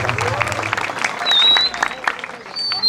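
Audience applause at a Calonarang performance at Pura Dalem Sala temple in Bali: scattered, fairly close clapping with a voice talking over it throughout.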